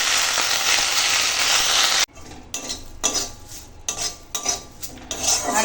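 Neem leaves frying in hot oil in a wok, with a loud, dense sizzle for two seconds followed by quieter crackling and clinking of a utensil against the pan.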